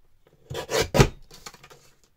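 A paper trimmer slices through cardstock while making a scalloped edge for a Christmas letters-to-Santa craft, producing two close, short scraping cuts followed by fainter rustling of the paper.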